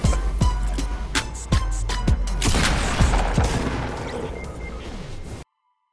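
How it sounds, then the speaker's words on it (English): Video game gunfire: a series of loud, sharp shots, spaced irregularly at first and then thickening into a dense burst before cutting off abruptly. "Stop shooting! You're just shooting that guy!"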